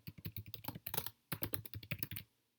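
Rapid keystrokes on a computer keyboard, close and clear, typing a goal description in a streaming tool, with a short pause midway before the clicking resumes.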